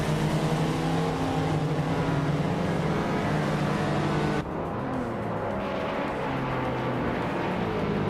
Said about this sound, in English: Shikamaru is driving a Lotus Carlton, a classic British sedan known for its impressive speed and comfort